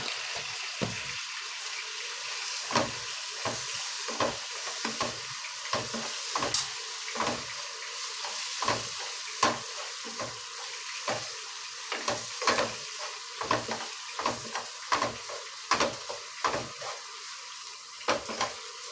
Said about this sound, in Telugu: పసుపు ధనియాల పొడి వేసిన తర్వాత బాగా బ్రౌన్ కలర్ వచ్చేటట్టు వేయించితే మంచి స్మెల్ వస్తుంది.